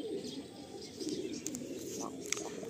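Pigeons in a loft of fancy show birds coo softly and steadily at middle distance, a low murmuring texture with a few faint chirps and rustles on top.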